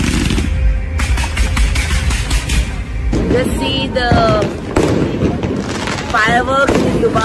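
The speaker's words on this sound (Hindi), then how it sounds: "वहाँ आतिशबाजी भी की जाती है, पटाखे भी चलाए जाते हैं।" Diwali fireworks and firecrackers go off in Dubai's Bur Dubai area, a loud continuous crackle with booms and whistling rockets rising and bursting, busy and dense throughout, with voices mixed into the din.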